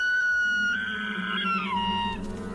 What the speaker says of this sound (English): This is bugling.